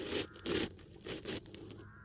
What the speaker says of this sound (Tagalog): Nandito lang si Johnny kasi marami mga uwak